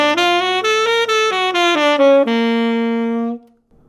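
Augmented scale run over a dominant 7 sharp 5 chord, about a dozen crisp notes moving up and down over a held low chord, ending on a sustained note that rings out and fades to silence.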